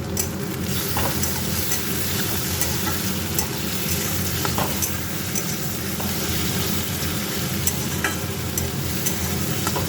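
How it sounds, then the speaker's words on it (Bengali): Shrimp frying with onion, ginger and garlic paste in a pan, a dense continuous sizzle with stirring scrapes and small pops, close and steady for the whole stretch. "পেঁয়াজের সাথে চিংড়ি মাছগুলো ভেজে নেব।"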